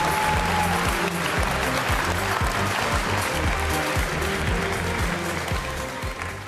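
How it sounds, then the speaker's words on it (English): Audience at the Cisco Live 2025 conference in San Diego breaks into sustained, full applause, loud and even throughout before easing slightly at the close. "Big applause."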